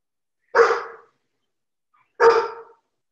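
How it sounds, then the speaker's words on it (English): A dog gives two sharp, separate barks about a second and a half apart, close and clear, with silence between them. "My dog."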